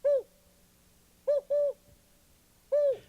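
A spotted owl in the western Oregon forest gives four short, resonant hoots in an uneven rhythm, the middle pair close together, loud and clear over quiet.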